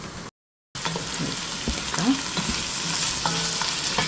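Food for a white bean chili sizzles and fries steadily in a pan as it cooks down, a close, continuous crackling hiss with light stirring scrapes, briefly cut off near the start.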